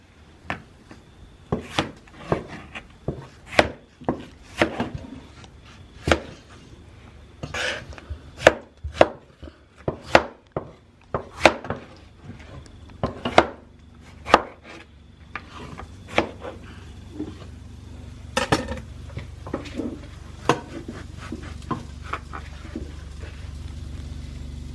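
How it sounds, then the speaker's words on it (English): A knife chops tomato on a cutting board at home, a steady series of crisp, close taps in an uneven rhythm, thinning out toward the end as kitchen sounds continue. "Now we're going to chop tomato."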